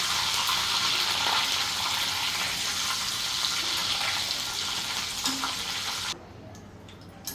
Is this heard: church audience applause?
no